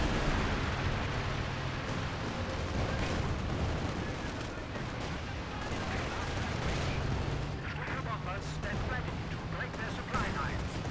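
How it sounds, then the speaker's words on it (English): Panzerwerfer rocket artillery barrage in the strategy game Company of Heroes 2, a dense, continuous rumble of launches and explosions with battlefield gunfire layered throughout, loud and steady over eleven seconds. "Panzerwerfer barrage."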